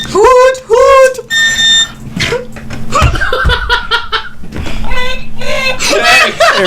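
An electronic alarm clock blares a warbling, trumpeting tone that sounds like elephants, and people laugh and chuckle loudly over it.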